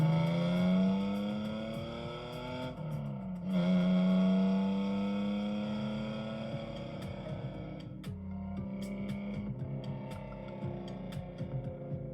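Ford Capri RS2600 running a lap, its engine note rising and falling through gear changes in a smooth tonal drone, moderately loud and steady with brief dips between shifts, no voices.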